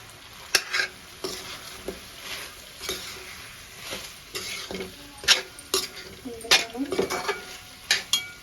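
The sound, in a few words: stirring chicken fry with masala powder in a pan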